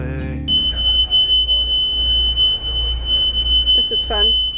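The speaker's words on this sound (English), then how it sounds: "So we just got a high water alarm" A boat's high water alarm sounds a steady, piercing electronic tone that holds for several seconds over a low engine-room rumble, then cuts off as a voice speaks.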